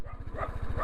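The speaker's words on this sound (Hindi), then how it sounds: "यहाँ से कुत्ते दौड़ रहे हैं ना," Dogs bark in quick repeated yaps close by while chasing a motorcycle on a road near the Iraq border, over steady engine rumble.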